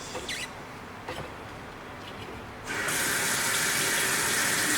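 Household water tap after its shutoff valve is turned back on: a few faint squeaks and clicks, then water bursts out and keeps running in a steady, hissing rush to the end.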